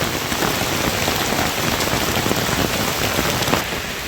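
A downpour drives down hard in rural Bangladesh under a low-pressure system, a loud, unbroken wash of rain on surfaces throughout, with no one speaking.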